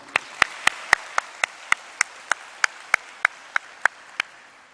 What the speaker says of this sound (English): One more round of applause for Vin.